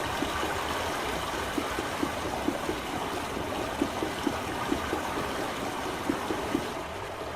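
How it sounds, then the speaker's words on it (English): Water rushes steadily from a hose in the video game Myst, a continuous watery hiss with faint repeated ticks running underneath. "So you can hear the water here."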